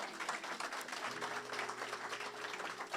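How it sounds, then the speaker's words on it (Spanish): A church congregation gives faint, steady applause to God during a sermon, a soft continuous patter of many hands with low hum underneath. "Yo pensé que usted le iba a dar un aplauso al Señor."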